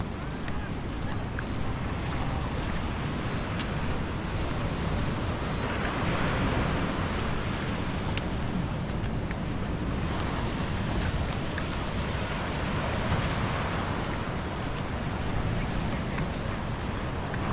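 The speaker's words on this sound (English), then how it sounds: "But even the ocean's really choppy today." Choppy ocean waves near Hilton Hawaiian Village rush in a continuous, loud wash, mixed with gusty wind buffeting the microphone and swelling slightly now and then.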